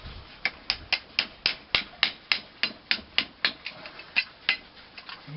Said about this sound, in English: get a big hammer